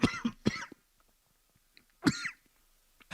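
A man coughs and clears his throat on a sports talk radio show, two short harsh coughing bursts close to the microphone with quiet gaps between.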